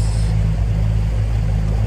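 A motorboat idles out from a launch at West Harbor on Lake Erie, a steady low engine rumble with a constant drone throughout, close and unbroken.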